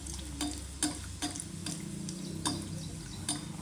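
Mangalore buns frying in hot oil, a steady low sizzle and bubbling with a few soft clinks or stirring taps at intervals, fairly close and moderately quiet, no talking.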